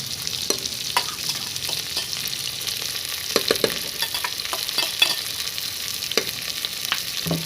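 Sliced white onions being stirred and fried in a pressure cooker for Punjabi rajma khichdi, a steady hiss with scattered scraping clicks from the spoon, close and moderately loud, no voices.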